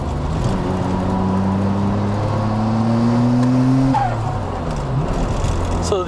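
Nissan Stagea engine revving under turbo boost, a steady loud drone that climbs in pitch, then drops off and picks up again, heard close and continuous.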